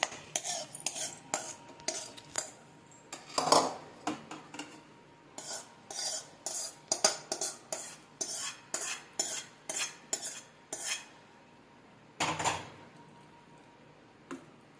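A spoon scrapes and clinks rhythmically against a bowl while stirring a cooled onion and tomato mixture into yogurt, a long run of soft regular taps with a few louder knocks, close and unaccompanied.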